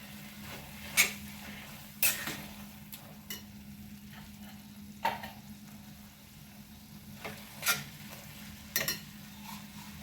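A lauki barfi mixture with cashews and ghee is sautéed in a pan: a faint low hiss underlies sparse, intermittent scrapes and clinks of a stirring spoon, each one sharp and brief.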